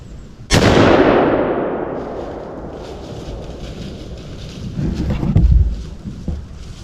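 A single loud rifle shot cracks out during a deer hunt in a national forest, its boom rolling away in a long fading echo, followed by quieter rustling and movement nearby.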